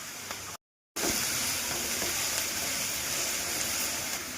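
Chopped onion, carrot and peas sizzling in a pan as samosa filling, a steady close hissing fry with a brief cut to silence early on, then the crackle resumes.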